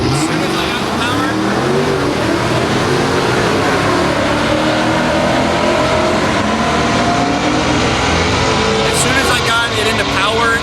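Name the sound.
drag race car engine redlining with failing transmission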